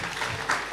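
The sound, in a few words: audience applause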